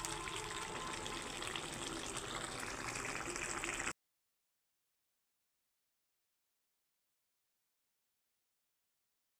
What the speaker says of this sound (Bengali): এই দেখুন বন্ধুরা কত সুন্দর ফুটছে, জল দিতে হয় না, জল বেরিয়ে গেছে লাউ থেকে